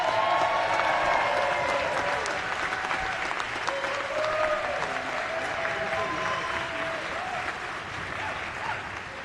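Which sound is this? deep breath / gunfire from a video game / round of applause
round of applause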